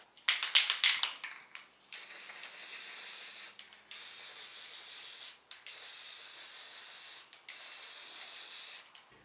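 Rust-Oleum camouflage spray paint hisses from the can onto boat bunks: a quick burst of short rattling sprays, then four long, steady bursts separated by brief pauses, close and clear.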